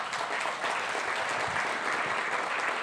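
Sustained audience applause fills the hall at a steady density, dense clapping heard alone without speech, moderately distant and even in level throughout.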